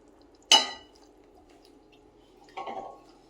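Soaked rice goes into a pot of part-cooked vegetables for Dindigul veg biryani, with a sharp metallic clatter and rustle, a quiet pause, then a softer grainy pour and scrape.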